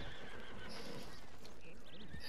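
Horse neighing in a video game, a short whinny heard near and fairly faint amid a busy mix of other game sounds.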